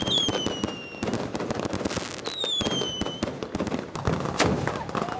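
Dense, rapid crackling of firecrackers going off in continuous bursts at a Miao dugout dragon boat festival on the Qingshui River, Guizhou, China; sharp pops layered over a roaring rumble, faint whistling tones rising above; loud and sustained.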